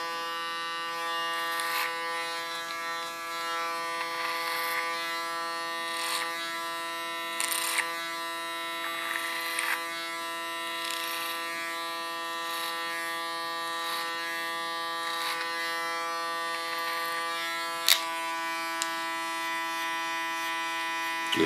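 An electric hair clipper hums steadily at a salon while cutting a woman's hair short, a constant buzzing tone with repeated brief bursts of louder snipping as it passes through the hair, no talking.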